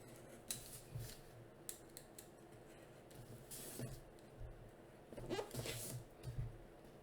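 Scissors cut the mouth section off a handmade lion dance prop, sharp snips and crinkly rustles of material spread across several seconds against a steady low room hum.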